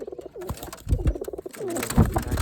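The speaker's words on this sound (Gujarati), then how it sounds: "આની અંદર છે ને એક કબૂતર" A pigeon coos close by in soft, throaty, repeated calls, with faint background murmur between them.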